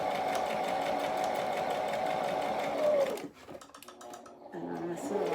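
A new sewing machine stitching fabric, its motor whirring in a steady fast rhythm for about three seconds, then stopping. Softer handling sounds and a brief restart follow.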